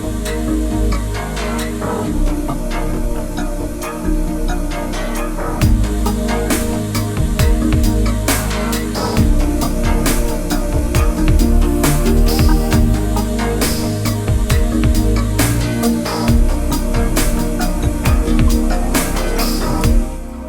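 A Korg Kronos synthesizer runs a Wavestation-style wave sequence, a dense, continuous, evolving texture with a busy low end and rapid rhythmic clicks and flickers, sustained loud for about twenty seconds without talk.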